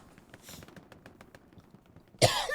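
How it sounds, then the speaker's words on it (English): A single short cough near the end of a quiet stretch of online match commentary for an 18-versus-18 Denmark versus Sweden game on the Carentan map, preceded by faint tapping and background noise. "Little cough. Very little cough."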